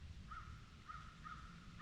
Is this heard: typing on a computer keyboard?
no